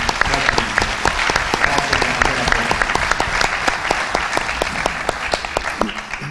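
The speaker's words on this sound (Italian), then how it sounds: "vorrei fare un applauso, un saluto e un ringraziamento per essere qui con noi a Robertino Rizzo e Gino Dimitri." An audience applauds at a conference held in a theatre, with dense, sustained clapping from many hands that fills the room loudly from start to finish.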